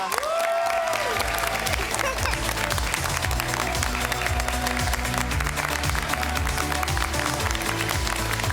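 At an awards dinner, the audience applauds academic challenge winners with continuous, full clapping under steady background music, staying loud and even throughout.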